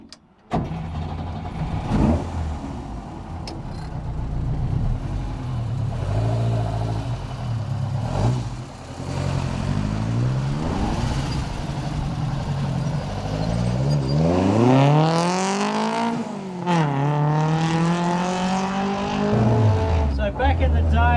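Ford Escort MK1 race car from the early 1970s, its engine revving and rising through gears during an onboard drive-around, loud and close throughout, with a big rising sweep near the end; someone talks over parts of it.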